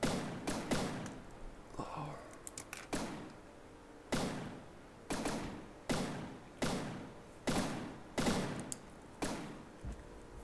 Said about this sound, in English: Ooh, huge explosion there.